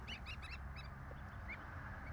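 Geese on a farm give several quick honks in a cluster, then one more later, fairly faint and a little distant over a steady outdoor background.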